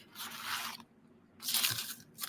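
Tissue paper is torn by hand at an art journaling table, two longer crisp ripping bursts separated by a pause and a third tear beginning at the end, close and fairly quiet.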